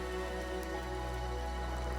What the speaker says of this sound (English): Rain falls from gray skies without warning.